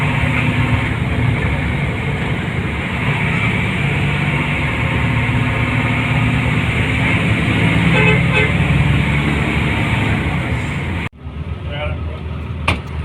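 A motorcycle horn toots a few times at a bus amid constant loud road and engine noise, with a sudden drop in the rumble near the end.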